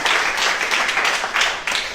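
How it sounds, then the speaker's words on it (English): A live audience at a club event breaks into sustained applause, a dense wash of many hands clapping that swells and dips steadily for a couple of seconds. "I think we should give Abel one more round of applause."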